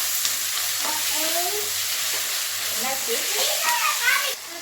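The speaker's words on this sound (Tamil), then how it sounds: "வெங்காயம் அப்புறம் தக்காளி அப்புறம் பூரி மசாலுக்கு தேவையான நல்லா வதங்கட்டும்" Onion and tomato sauté in hot oil for a poori potato masala, giving a steady, close, dense sizzle throughout, with faint voices in the background and a brief rise near the end.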